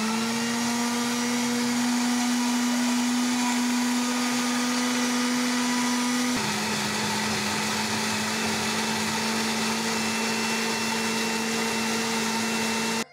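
Electric grinder blending fish green chutney ingredients with water, a loud, continuous motor whine that drops slightly in pitch partway through and then runs on steadily before cutting off.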